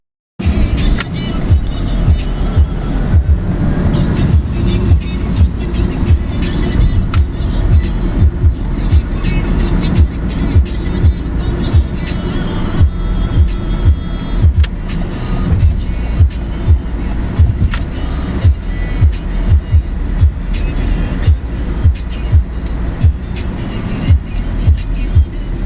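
A Dubai taxi driving through city traffic toward a tunnel, a steady engine and road rumble from inside the car with rhythmic bumps from the road surface, continuous and fairly loud.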